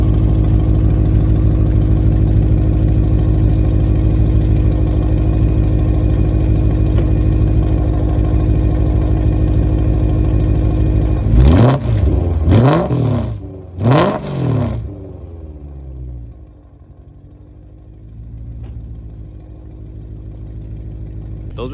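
A BMW E92 with a full Valvetronic exhaust drones at a steady, heavy idle with a deep exhaust rumble, then a few short light revs rise and fall before it settles low.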